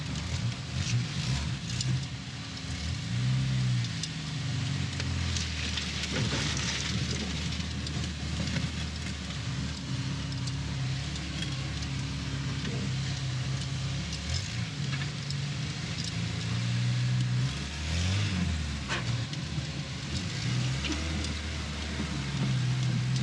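Abandoned Lamborghini driven through a forgotten subway, its engine rising and falling in a couple of revving accelerations over a steady, rough rumbling roar, loud and continuous.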